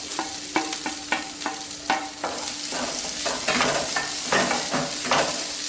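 Grated coconut sautés in a pan for kurma under a constant loud sizzle, with a spatula knocking and scraping in a quick rhythm, then sweeping through more continuously.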